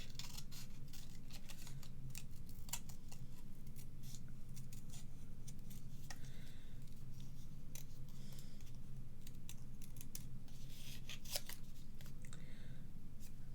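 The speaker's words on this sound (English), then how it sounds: "I find it easy to snip off and try and cut around." Scissors snip and cut around the shape of a card with a musical guitar design, giving close, crisp repeated clicks and scraping slices in an uneven rhythm over a soft background hum, with no talking.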